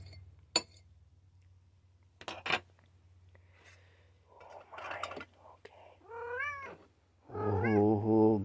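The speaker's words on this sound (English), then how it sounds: "He's quite a cat, I'll tell you." A pet cat meows repeatedly while being fed wet food, with several rising, drawn-out calls close by, growing louder toward the end, alongside soft clinks and a few quiet murmurs.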